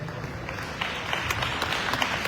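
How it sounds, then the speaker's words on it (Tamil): Crowd applause for Thirumavalavan MP at an Ambedkar memorial-day gathering in Australia: a short burst of steady hand clapping, moderately loud, with sharper individual claps standing out. "ஆகவே அவருக்கு பலத்தை கைத்தட்டு கொடுக்கணும்."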